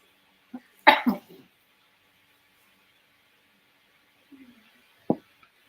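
A few short, sharp coughs burst out close by, a cluster at the start and one more a few seconds later, separated by quiet.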